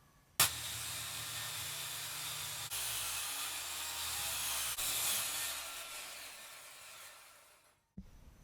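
A power saw rips a walnut board lengthwise with the grain for a cabinet build, giving a steady hissing whine for about seven seconds that lifts slightly mid-cut and then stops abruptly.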